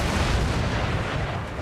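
An artillery cannon firing in Empire Total War with Darthmod, a loud, broad, rumbling blast that fills the short moment with no talk over it.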